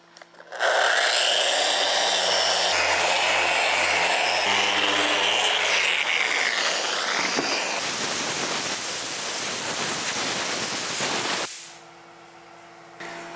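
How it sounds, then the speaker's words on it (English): An orbital sander surfaces a wood slab set with bow tie inlays, making a loud, steady buzzing hum with rough abrasive scratching, then it winds down and stops near the end. "I'm gonna switch over to my orbital sander"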